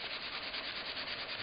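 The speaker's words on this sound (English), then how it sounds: "So the chamois works well. You just rub it." A chamois cloth rubbed over Prismacolor colored pencil to blend it, making a close, continuous soft scrubbing hiss with a faint back-and-forth pulse and no talk.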